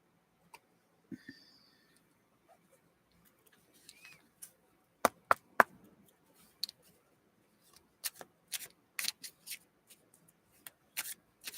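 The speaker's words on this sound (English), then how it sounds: "These are so much easier to shuffle." Soft, scattered taps and riffling flicks of tarot cards being shuffled close by, quiet and irregular, with no talking.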